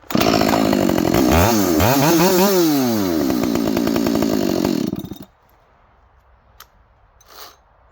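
A chainsaw fitted with a Tsumura premium light bar revs hard at full throttle to wear a burr off the chain, pitch rising and falling with the throttle for about five seconds, then cuts off to near silence.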